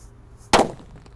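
A red disco happy flower firecracker goes off in a single sharp burst, loud and close, then a short fading crackle into quiet.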